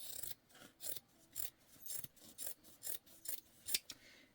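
Scissors snipping fabric to trim a seam allowance on a sewing project, about a dozen short, crisp cuts in a fairly even rhythm, close and quiet.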